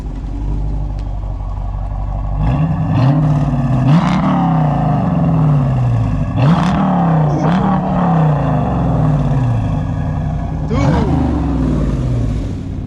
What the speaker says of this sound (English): give it a couple revs real quick